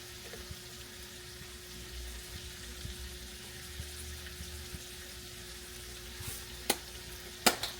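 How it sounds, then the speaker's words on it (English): Chopped onion frying in a pan with a faint, steady sizzle, ending with a couple of sharp clicks. "We're going to put some chopped onion."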